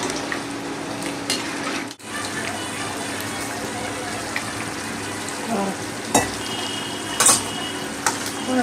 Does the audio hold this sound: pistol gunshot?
no